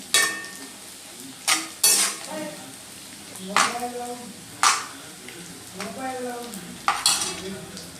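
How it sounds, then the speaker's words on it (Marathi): Bombay duck fish frying slowly in generous hot oil, with a steady sizzle broken by several sharp spatula scrapes and clatters against the pan; a voice talks intermittently over the cooking. "तेल थोडं जास्तच टाकत स्लो असं बोंबील परतवायचे"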